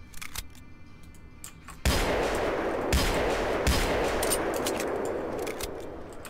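Several sharp metallic clicks and clacks of a video game pistol being equipped and reloaded, followed by a sustained bright rushing noise with a few more clicks over it.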